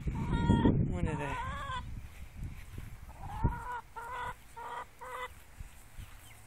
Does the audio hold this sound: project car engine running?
no